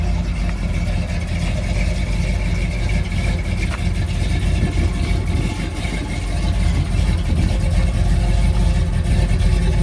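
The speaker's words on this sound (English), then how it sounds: "Truck sounds like it's got a little cam to" 1979 Ford F150 Ranger XLT 4x4 pickup with a mild cam, idling close by with a steady low rumbling lope and a slight rise in level partway through, no voices over it.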